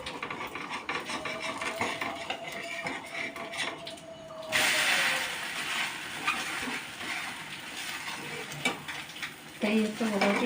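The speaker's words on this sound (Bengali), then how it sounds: "এই হচ্ছে মোটামুটি কড়া কড়া করে ভাজছি রুটিগুলো" Rotis fry crisp in a pan with a soft, steady sizzle and scraping, stirring sounds, fairly quiet and close, with occasional clinks.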